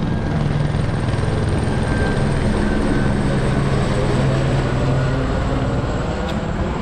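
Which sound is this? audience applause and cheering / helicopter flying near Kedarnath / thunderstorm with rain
helicopter flying near Kedarnath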